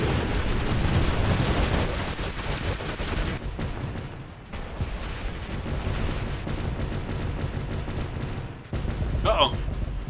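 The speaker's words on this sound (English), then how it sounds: "Bringing out the heavy artillery" Heavy artillery gunfire in a video game: a dense, loud, continuous barrage of booming shots that briefly thins twice before pounding on.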